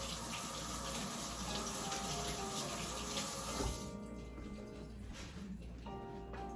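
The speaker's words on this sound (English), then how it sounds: "I'm gonna wash my hands." Hands are washed under a running tap after garden seeding, a steady close gush of water that cuts off partway through, leaving a quieter drip and faint handling sounds.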